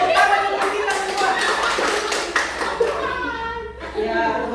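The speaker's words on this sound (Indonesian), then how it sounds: "tepuk tangan untuk kita semua" A group at a special needs school event in Mimika claps together in a short burst of applause, mixed with voices and laughter.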